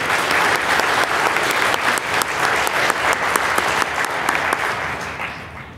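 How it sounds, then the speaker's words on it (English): Graduating eighth-grade students at a middle school promotion ceremony give a loud, sustained round of applause for their supporters, dense clapping from a large crowd that holds steady and then tapers slightly at the end. "Students, please join me in giving a round of applause for all those who have supported you in your education"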